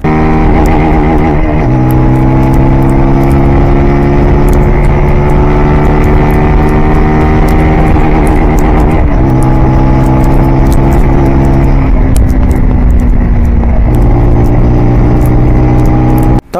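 Zongshen Cyclone RA2 retro motorcycle pulling hard on a road, its loud, steady engine note climbing in pitch through repeated upshifts under full throttle, with constant wind and road roar and no talk.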